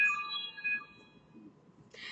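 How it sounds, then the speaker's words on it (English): A phone ringtone plays as a bright sustained electronic melody, clear near the start and fading out, then a short tonal burst returns near the end over a faint background. "That was my ringtone."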